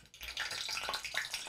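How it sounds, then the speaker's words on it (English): Water dropped into hot vegetable oil in a frying pan sets off a faint, hissing, crackling sizzle with scattered pops over a short moment. "It's starting to sound like a frying kind of thing."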